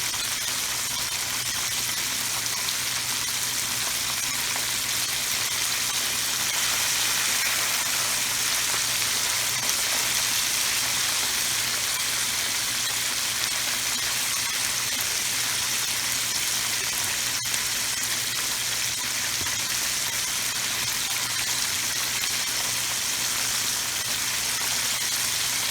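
Chicken pieces frying in hot oil for golden fried chicken, a steady, dense sizzle and crackle like light rain that runs evenly throughout without pause or talk.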